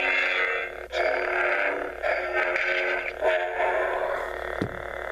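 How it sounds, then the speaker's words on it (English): A Graflex lightsaber loaded with the Dagobah sound font hums steadily while a series of swing whooshes swell and fade, with a sharp accent near the end. The sound is close and fairly loud, and nobody speaks. "It has a different set of swing sounds."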